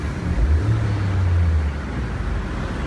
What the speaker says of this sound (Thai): แอบฟังเสียงเครื่องก่อน